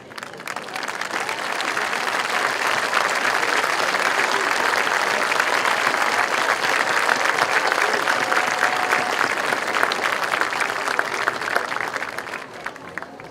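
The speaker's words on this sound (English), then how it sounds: "we would like to applaud you for your efforts" At a graduation ceremony, the crowd applauds military members, police officers and firefighters, a long, sustained wave of clapping that swells in, holds steady for over ten seconds, then starts to taper.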